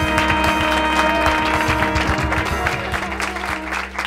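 An audience applauds a band at a comedy show, dense clapping spread over sustained musical tones and a steady low hum, staying loud and even throughout.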